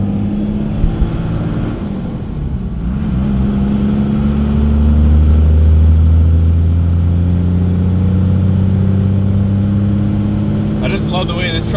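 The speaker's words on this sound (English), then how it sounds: "I just love the way this truck sounds when you shift." A truck engine rumbles steadily and rises in pitch as it revs through a gear change, with a brief dip before the next gear.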